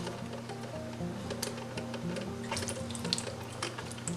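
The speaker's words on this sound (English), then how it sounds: "You can see it's already putting water into the pot, and it's only 15 seconds into this." A traditional drip coffee maker gurgles and trickles as it pours water into the pot, a steady running-water sound with faint ticks, close by and alone.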